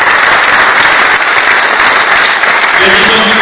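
A crowd gathered for local vote results gives loud, steady applause that fills the whole stretch, with a voice faintly heard over the clapping.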